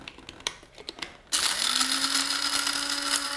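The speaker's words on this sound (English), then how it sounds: "So now we'll add our top on here and just do a quick grind." An electric spice grinder whirs loud and steady as it grinds star anise, starting abruptly after a few faint clicks and rising slightly in pitch as it runs, alone and up close.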